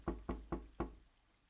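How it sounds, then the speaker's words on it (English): Four sharp knocks on a front door in a quick, even rhythm, close and clear, followed by a short fading ring and no voices. "she heard a knocking on Harry Keener's front door"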